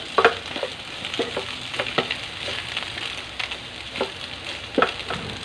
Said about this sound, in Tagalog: Pabayaan lang natin siya mag-brown ng kaunti bago tayo mag-gisa-gisa ng bawang sibuyas